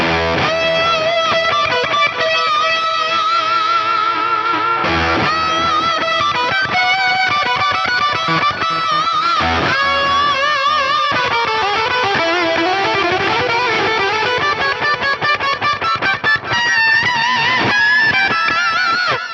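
A continuous fuzzy, distorted electric guitar through an octave fuzz on the neck pickup, with a buzzy, synthetic octave edge, played loud and unbroken, its tone shifting and darkening partway through as a low-pass filter kicks in.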